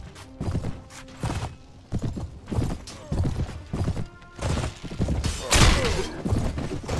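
Horses galloping in a Mount & Blade battle, rhythmic bursts of hoof clatter and thuds repeating about once a second, loud and close, with a louder flurry near the end.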